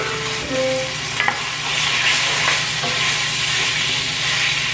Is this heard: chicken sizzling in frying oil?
yes